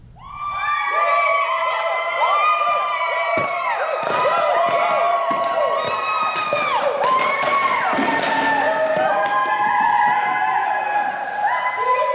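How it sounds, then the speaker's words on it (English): A school administration team at South Houston High School performs a cheer, with many voices shouting and chanting in a continuous loud, overlapping burst that runs throughout. "we've got a cheer just for you"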